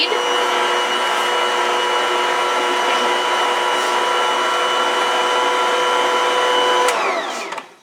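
A stand mixer on its lowest speed setting gives a steady, loud motor whine with a constant hum for about seven seconds, then winds down and stops at the end.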